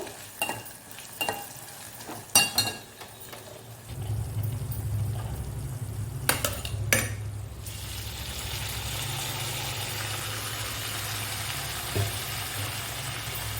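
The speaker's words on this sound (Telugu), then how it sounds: "మనం కూరలో అయితే తాలింపు వేసేసుకుందాము" A spoon clatters against a pan in short bursts while tempering is added to a prawn curry, then a steady sizzle takes over and continues loudly to the end, with no one speaking.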